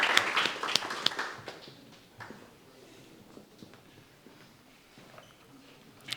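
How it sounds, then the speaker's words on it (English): A small audience at a legal panel event applauds for the speakers; the clapping is fairly close and fades within about two seconds into scattered taps and footsteps in a quiet room. "Give a round of applause"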